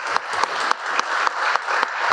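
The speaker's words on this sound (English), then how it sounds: "another round of applause for Mr." An audience at a logistics conference keynote applauds after a speaker is introduced, steady clapping throughout, loud and sustained with no voices over it.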